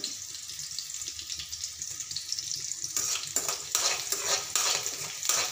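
Chopped onion and green chili cook in a pan for upma: a soft sizzle at first, then louder bursts of stirring and spattering in the second half, close by.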